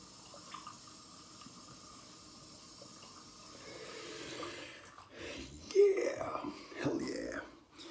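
A bathroom tap runs for a cold-water rinse after a shave, a steady stream of water that grows into louder splashing and sloshing toward the end.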